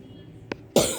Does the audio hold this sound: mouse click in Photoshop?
no